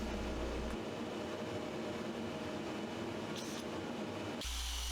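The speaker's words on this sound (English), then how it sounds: "just using it to run some paddle bit holes" A power drill with a paddle bit whines at a steady pitch while boring through wood, then spins up sharply near the end, with no voices.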